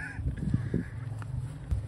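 Geese on an urban golf course give a few short, close honks over outdoor background noise.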